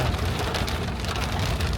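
Steady rain falls on a surface at a mountain campsite on muddy roads, giving a dense, continuous patter at close range with no voices.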